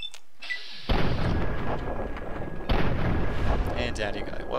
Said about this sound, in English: just take them out with sniper rifle